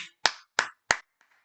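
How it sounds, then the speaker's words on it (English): Three sharp, separate claps close to the mic at a college baseball game between Texas and Air Force, evenly spaced with quiet between them and a fainter tap after. "Clap it up, man."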